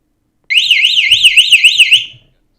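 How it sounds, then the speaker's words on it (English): A Canary home security camera sounds its siren, a loud, piercing warbling alarm that sweeps rapidly up and down in pitch for about two seconds before cutting off. "I've got an option here to sound the siren."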